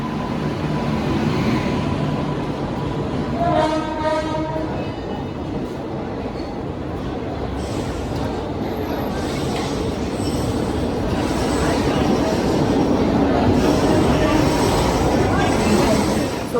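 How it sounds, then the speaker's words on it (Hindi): Shridham Express passenger train pulling into a station on the Mathura–Vrindavan route, a loud steady rumble of rolling wagons with a brief tonal horn-like wail early on and people talking faintly in the background. "हमारी ट्रेन श्रीधाम एक्सप्रेस आ चुकी है"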